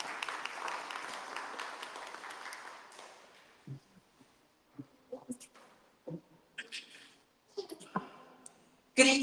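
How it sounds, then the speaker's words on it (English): Audience applause at a community housing resource workshop in a Philadelphia school hall: a few seconds of steady, fairly full clapping that fades out into a handful of scattered claps, light knocks and faint background noise. "let's give her a round of applause as she comes"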